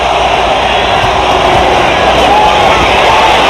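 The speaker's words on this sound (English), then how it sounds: "Crowd trying to encourage their man." Boxing arena crowd at a Bernard Hopkins versus Oscar De La Hoya fight, a steady loud roar of cheering and shouting that fills the whole stretch without a break.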